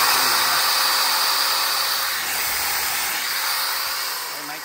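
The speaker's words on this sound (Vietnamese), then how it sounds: "Rồi, một con máy khoan quý vị nhá." An electric drill runs on its low speed setting, giving a steady, loud broadband whirring hiss that continues unbroken throughout.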